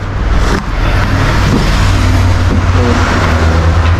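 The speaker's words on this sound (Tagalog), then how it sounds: "Pasensya na kayo dito sa ingay dito sa may mga dumadaan na mga sasakyan" Vehicles pass along a road beside a house in the early morning, a loud continuous engine and tyre roar that swells and fades as cars go by, with no talking.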